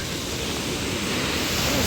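Atlantic Ocean waves wash onto a pebbly Tenerife shore and pull back, a steady broadband roar of surf close by, loud and continuous with no voices.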